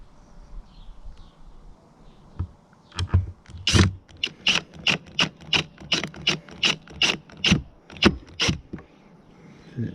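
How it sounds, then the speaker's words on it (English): Plastic bathroom vent cover on a VW Crafter/Sprinter camper van being screwed on, giving a run of evenly spaced ratcheting clicks close by, one after another, with no talking. "This bit just clips on, well not clips on, it actually screws on."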